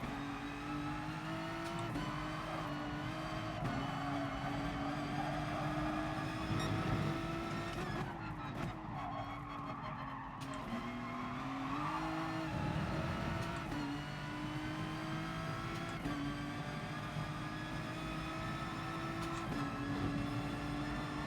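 Mazda Atenza race cars in GT Sport, a continuous engine drone from the racing game with rising and falling pitch as the cars accelerate and shift, steady and loud throughout.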